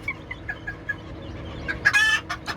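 Chickens in a coop cluck in short, uneven bursts, with a louder squawking flurry near the end; fairly close, no talking.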